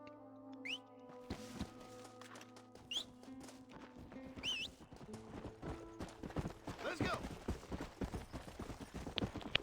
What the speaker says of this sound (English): And this is going to be the last horse ride of the whole game.